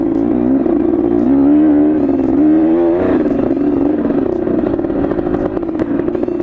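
A motorcycle ridden on a dirt trail, its engine droning loud and steady close up with a slight rise and fall in revs, no talk over it.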